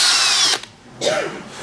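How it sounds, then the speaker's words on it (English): A power drill bores a 1/4 inch hole in a wall for a hanger bolt, a loud close whine in two bursts with a short pause between them. "The next step is to drill a 1/4 inch hole and put in the hanger bolt."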